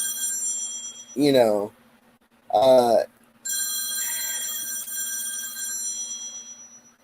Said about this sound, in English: I apologize for the phone in the background.